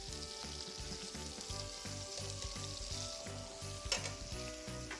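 A golden-brown steak sizzles steadily in a pan, a dense close hiss with quick rhythmic scraping or stirring pulses underneath and a brief louder burst near the end, no voices present.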